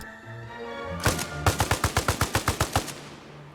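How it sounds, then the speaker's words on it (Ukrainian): Rapid automatic gunfire in a tactical warfare video game erupts after a quiet hum, a short burst then a steady string of about a dozen sharp, evenly spaced shots from a house, loud and close. "Тут з будинку хтось стріляє."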